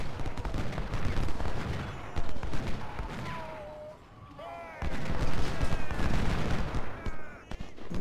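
Volleys of musket and artillery fire from the Ultimate General: Civil War strategy game at the Battle of Cold Harbor, dense crackling bursts repeating over several seconds with brief lulls, loud and continuous under the game's battle din.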